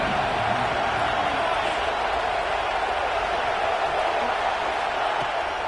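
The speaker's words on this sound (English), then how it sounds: "This crowd ready to make its presence known." A college football stadium crowd roars steadily and loudly for Auburn versus Tennessee, a dense, unbroken wash of cheering that holds at the same level throughout.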